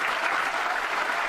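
Steady, dense audience applause fills the whole short stretch at an even level, a crowd clapping together without pause.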